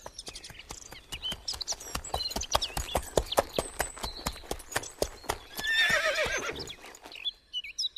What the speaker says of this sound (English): The king's horses come.